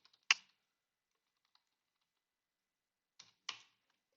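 Computer keyboard being typed on while working at a Linux terminal, a few sharp isolated key clicks with long quiet gaps between them, close and clear in a silent room.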